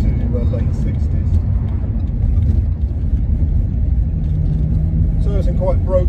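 A 1963 Jaguar Mark 2 with a CMC high-torque 4.2 engine conversion driving over a broken road surface: steady low engine and road rumble from inside the car, with occasional light knocks and a voice speaking over it.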